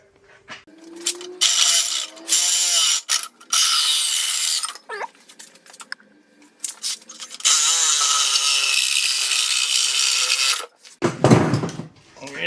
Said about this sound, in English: we're just gonna go cut the muffler right off with a sawzall